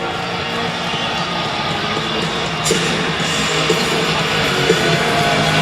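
A steady, dense roar of a large basketball arena crowd fills the air at a 2016 UC Riverside vs Utah game, a continuous wash of murmuring with a few louder bursts and no clear single voice.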